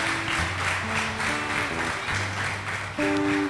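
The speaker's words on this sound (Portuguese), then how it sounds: "Uma salva de palmas para Jesus." Church congregation applauding during a worship service, broadband clapping filling the room steadily with sustained organ or keyboard tones beneath.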